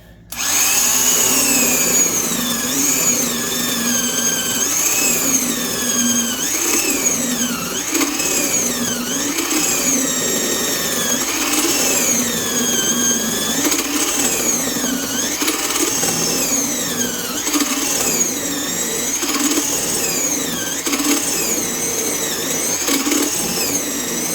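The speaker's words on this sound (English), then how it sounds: "let's see how it does with a regular 1-inch spade bit and pine here" A corded power drill with a 1-inch spade bit whines steadily and loudly for the whole stretch, its pitch sagging and recovering repeatedly as it bogs down boring through pine, with no talking.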